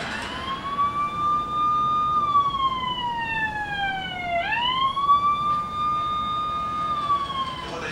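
Police siren on an unmarked car wailing steadily, its pitch sweeping slowly down then snapping back up partway through, fairly prominent and continuous over background road noise.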